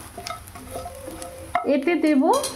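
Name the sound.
bitter gourd frying in oil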